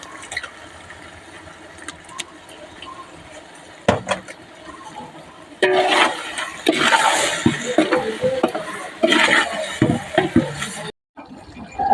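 Chicken liver frying in a pan for a large biryani, a busy sizzle and clatter that swells loudly in the middle, with steady background noise and no talk.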